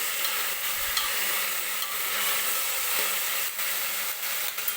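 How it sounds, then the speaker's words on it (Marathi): Mixed vegetables for pav bhaji sautéed in hot oil, a steady close sizzle with a few faint stirring scrapes, no voices. "1-2-3 मिनिटासाठी ही आपल्याला ह्या ज्या भाज्या आहेत ते तेलामध्ये अशाच परतून घ्यायच्या आहेत"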